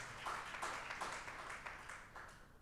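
A church congregation at a Sunday service claps for Jesus, making faint, rhythmic hand claps with an even beat heard from a distance for a couple of seconds.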